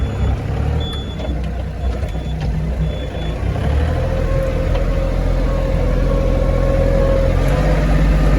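Iseki TA 227 Japanese mini tractor engine running while ploughing, a loud steady low rumble close by that swells slightly partway through, with faint intermittent high beeping tones early on.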